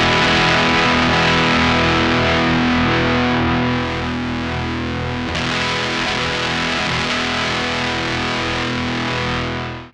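Cataclysm drive distortion with asymmetrical clipping on a guitar, a dense, continuous saturated roar held for about ten seconds with a slight shift midway, no voices.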